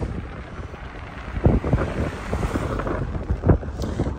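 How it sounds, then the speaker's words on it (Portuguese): Strong cyclone wind buffets the microphone at a beach in Balneário Camboriú, a steady broadband roar with louder gusts surging around the middle and near the end, with no voices. "pequeno vendaval."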